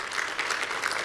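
A virtual audience applauds for a children's model and talent showcase organizer, a steady broadband patter of clapping filling the short moment without interruption.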